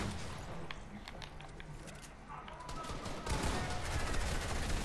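Gunfire in the Fortnite video game: bursts of rapid shots, some clustered like automatic fire, sounding moderately close, with a voice speaking briefly.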